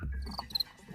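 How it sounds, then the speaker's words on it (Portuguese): Male cricket chirping by rubbing its thick forewings together, a few faint, short, high-pitched chirps against a quiet background. "Ele gorjeia ou faz esse som estridente esfregando as elitras, as asas mais grossas, uma contra a outra."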